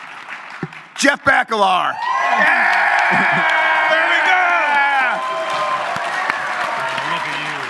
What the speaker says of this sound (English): That was just applause